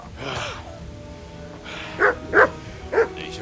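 Dog attacking in the video game Kingdom Come: Deliverance, three sharp barks close together near the end after a stretch of low growling and background noise.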